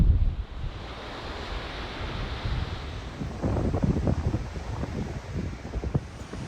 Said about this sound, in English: Super windy today. Sand is blowing all over.